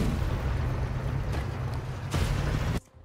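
A tank cannon blast in a multiplayer war video game: a loud, sustained roar of explosive rumble and gunfire, a second heavy burst near the end, then an abrupt cut to near silence.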